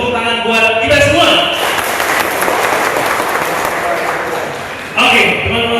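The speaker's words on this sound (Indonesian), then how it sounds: "Tepuk tangan buat kita semua." An audience at a digital marketing education session for young entrepreneurs applauds, loud and sustained clapping filling the room for several seconds before a voice returns near the end.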